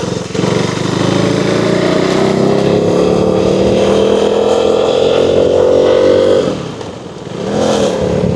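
A KTM Duke 390 motorcycle engine drones loud and close while riding, its pitch climbing steadily before dropping sharply as the rider downshifts, then rising again.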